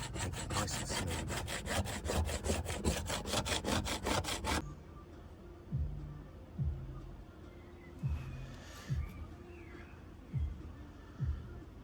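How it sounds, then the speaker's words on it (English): A plastic scraper scraping excess wax off a snowboard, starting with a rapid run of rough rasping strokes, then slower, spaced single scrapes over quieter background noise. "Now I just need to scrape off all the excess wax, make it nice and smooth."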